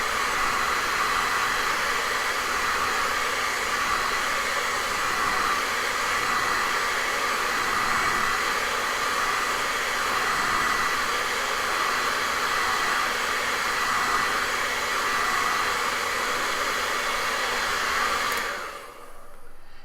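A hair dryer blows steadily and loudly at close range, drying paint on a painting, then switches off near the end.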